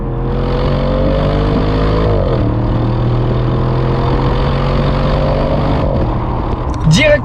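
A 2023 Audi RS6 Performance engine drones steadily while driving, a loud low hum with a brief shift in pitch midway and a faint voice near the end.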